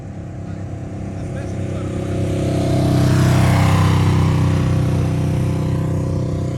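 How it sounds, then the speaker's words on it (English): A beach sand sifter machine, out on storm-hit sand, drones with a steady low mechanical rumble that swells slightly midway, fairly loud and continuous. "There's a sand shifter there, like you would see on a mine somewhere."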